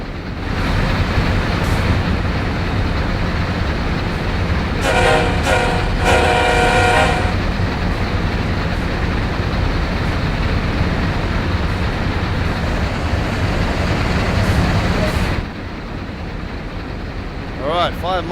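Amtrak train in Train Sim World 2 on Horseshoe Curve, a loud continuous rumble of rolling cars with a sustained horn blast partway through, then easing off near the end.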